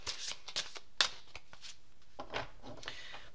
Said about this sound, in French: Je vais vous tirer une carte pour chaque.